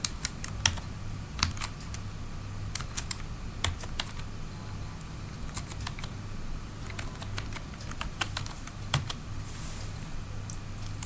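Close, quiet keystrokes on a computer keyboard as a first name is typed into a Google account sign-up form, coming in short irregular bursts with pauses between them over a low steady hum.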